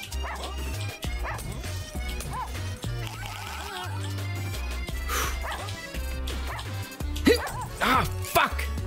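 Doberman dogs in a video game, a Russian subway dog game, bark and yip in quick repeated bursts over constant game music, with a person talking and exclaiming throughout.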